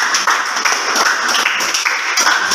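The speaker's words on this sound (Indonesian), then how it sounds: "Tepuk tangan kelompok 5." A classroom of teachers-in-training applauds a student group after its presentation, with steady, dense clapping from many hands at fairly close range throughout.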